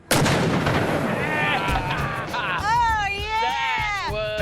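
A single loud boom as a black powder cannon, the Old Moses, loaded with its maximum charge, fires a ping pong ball outdoors, followed by a rumbling tail and excited voices and shouts from onlookers.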